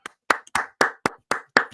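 Seven sharp, separate hand claps in a podcast studio, close and dry, spaced evenly at about four per second with silence between them, so a few people clapping rather than a crowd.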